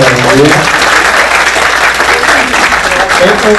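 Loud, dense applause fills the hall at an international scientific meeting, a large audience clapping steadily, with a voice briefly audible at the start and end.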